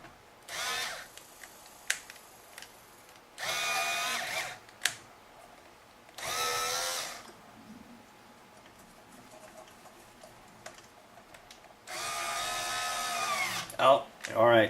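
A Ryobi BG612G bench grinder fitted with a wire wheel spins up in several loud bursts of a few seconds each, with quieter gaps between runs and a few sharp knocks.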